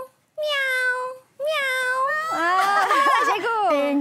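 A voice imitates a cat, giving two drawn-out meows followed by a longer, wavering yowl, close and clear.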